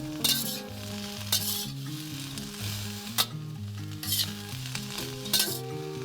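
Shredded cabbage stir-fried in a wok crackles and sizzles steadily, punctuated by about six crisp tossing scrapes spaced roughly a second apart over a soft background melody, close up with no speech.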